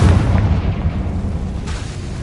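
A Confringo blasting spell from the Hogwarts Legacy video game on PS5, a loud deep booming explosion with a rumbling, noisy tail that fills the whole moment.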